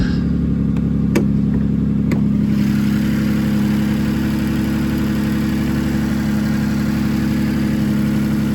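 A 2010 Ford Fusion Sport AWD engine with a Borla exhaust and an exhaust leak idles steadily with a low, rhythmic chugging rumble throughout, a few faint clicks early on, no voices.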